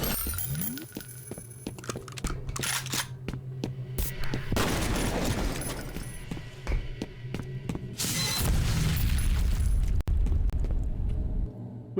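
Automatic gunfire in the F.E.A.R. shooter game roars in long, loud sustained bursts, with heavy booming thuds and rumbling impacts between volleys, close and dense with no talking.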